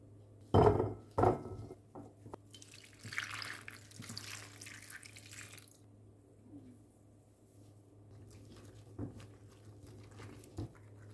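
Soaked cauliflower rinsed under a running tap at a kitchen sink, with a few sharp knocks and splashes, a steady soft trickle and occasional drips, all fairly quiet.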